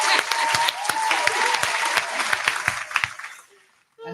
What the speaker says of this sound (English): So yeah, I'm clapping again.